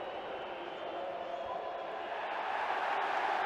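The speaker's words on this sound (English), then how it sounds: "Liverpool fans cheer." Liverpool football fans cheer during a Liverpool v Newcastle United match, a broad steady crowd roar that swells slightly toward the end.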